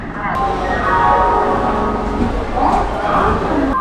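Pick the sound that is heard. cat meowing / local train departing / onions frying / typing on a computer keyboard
local train departing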